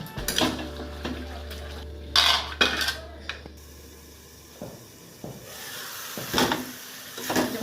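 Metal utensil scraping and clanking against a pan while spices are stirred with jackfruit and small prawns, irregular knocks and scrapes with quieter gaps between bursts.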